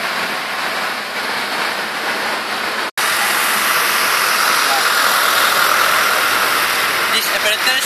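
Steady roar of passing road traffic and vehicle engines during a traffic noise study in Penang, loud and continuous with one brief dropout.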